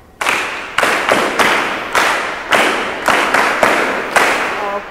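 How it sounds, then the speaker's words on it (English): A group of people clapping a rhythm pattern together in unison, loud sharp claps in uneven groupings with short pauses between phrases, crisp and close, with no talking. "would you clap just that top line for me, please?"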